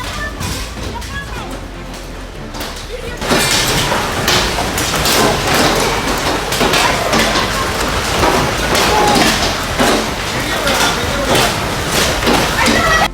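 Heavy rain pours down in a severe thunderstorm with hail, beginning lighter and then surging into a loud, dense downpour with scattered thuds and impacts, under a continuous roar.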